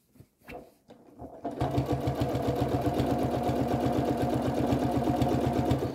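A sewing machine stitching quilt binding starts after a few soft handling noises, then runs at a fast, even, rapid-fire clatter, close and steady throughout.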